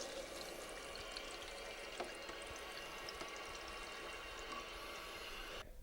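Water runs quietly and steadily into a toilet cistern after the supply is switched on at a Cistermiser Easyflush installation, a soft continuous trickle and hiss that cuts off abruptly at the end.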